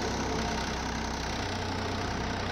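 Tractor engine in the Farming Simulator 22 game, from an Indian tractor mod at a busy grain market, a loud, continuous low rumble that holds steady throughout without talk.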